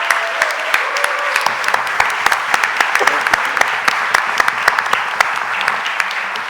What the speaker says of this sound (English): can you stand up so we can give you a round of applause?